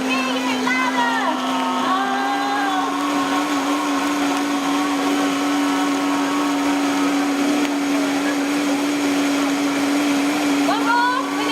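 A blender whirs steadily through a raw chocolate smoothie at a live vegan festival cooking demo, loud and constant throughout with a sustained motor hum and shifting whine, crowd voices faintly underneath.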